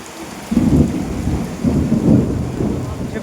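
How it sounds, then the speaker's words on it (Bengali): Heavy monsoon rain in West Bengal, heard from inside a dark house, roars steadily while low thunder rumbles swell twice. The downpour stays loud and continuous with no voices. "প্রায় 1 ঘন্টা ধরে বৃষ্টি হচ্ছে আমাদের এখানে"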